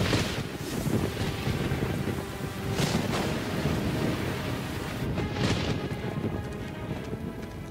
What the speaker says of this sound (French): il pleut à grosses gouttes!